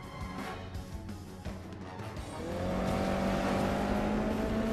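A motorcycle engine in Resident Evil 6 starts low and rough, then rises into a loud, steady revving drone that holds through the second half.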